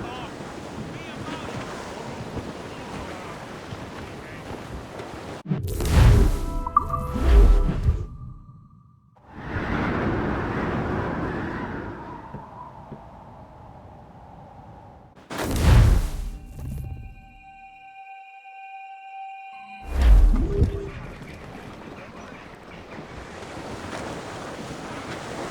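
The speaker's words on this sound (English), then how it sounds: "That wind's trouble, Captain." Strong wind and ocean waves roll and gust at sea aboard a sailing ship in Assassin's Creed Rogue, with loud surging whooshes of surf breaking in several bursts between quieter stretches of blowing wind.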